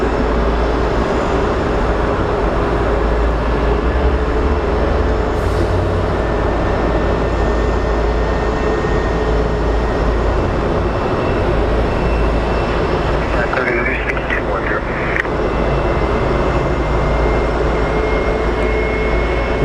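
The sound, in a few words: airplane engines at Sky Harbor Airport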